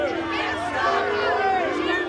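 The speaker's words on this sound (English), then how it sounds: "The Prime Minister booed and heckled when he visited the area where two Jewish men were stabbed in North London this week" A crowd jeers and heckles the Prime Minister in North London, a dense, loud mass of overlapping shouting voices with rising and falling calls and no single speaker standing out.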